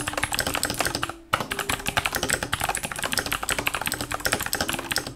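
Fast, continuous typing on a loud mechanical keyboard, dense clacking keystrokes close up with a brief pause near the start, no talking.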